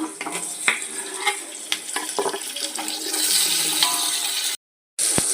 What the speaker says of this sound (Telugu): ఇదిగోండి బాగా వేగిపోయినాయి టమాటాలు కూడా.